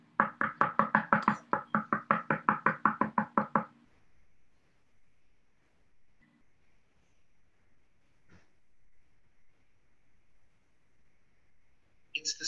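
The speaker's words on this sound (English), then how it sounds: "It's knocking." A door is knocked on in a rapid, loud run of about twenty sharp raps, followed by a near-silent stage pause with faint shuffles and a brief knock at the very end.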